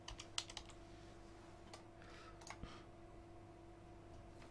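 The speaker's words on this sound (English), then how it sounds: "Let's type it in actually." Quiet keystrokes on a computer keyboard, a short burst of close clicking taps followed by a few scattered presses over a low steady hum.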